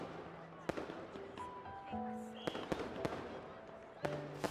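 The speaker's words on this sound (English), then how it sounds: "The fireworks still fill the sky" Fireworks burst over a romantic story scene in a video game, with sharp cracks and pops scattered across the sky amid soft musical tones, heard faintly and at a distance.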